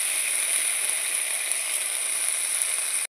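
Ginger, cumin and tomato sizzling together in a pan, a steady loud hiss of frying that runs unbroken from start to finish and then cuts off abruptly, with no voices.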